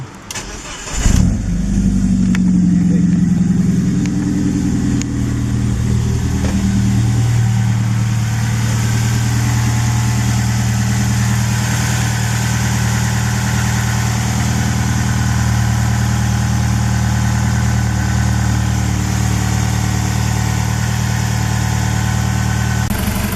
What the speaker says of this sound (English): leave the car running for about 15 minutes, let the engine warm up